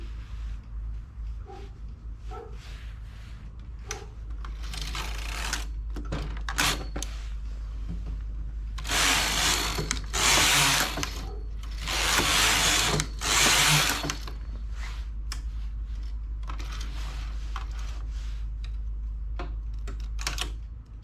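A domestic knitting machine's carriage runs back and forth knitting stripes, giving clattering, rattling bursts of mechanical noise over a constant low hum, with louder sweeping passes in the middle.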